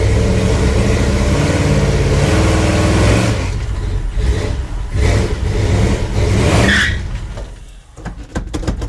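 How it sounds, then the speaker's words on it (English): A 1956 Chevy two-door with its front tires sliding gives a loud engine drone and skidding rush that fades out, followed by scattered tire chirps and rough scraping bursts near the end. "Oh, it slid the front tires"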